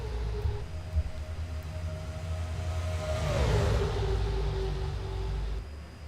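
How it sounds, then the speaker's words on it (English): NASCAR stock cars racing past at Daytona during the 2007 Gatorade Duels, a loud engine roar that swells as a car sweeps by with a falling pitch, then settles into a continuous drone from the field. "Leaving turn 2 down the back stretch now as this field continues to race it out"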